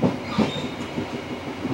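Indonesian passenger train on the Dharmawangsa service running along the rails toward Jakarta, a steady low rumble of wheels with soft rhythmic clatter throughout, fairly close and continuous with no talk.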